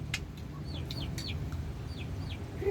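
A chicken gives a few short, faint clucks against a low background hum.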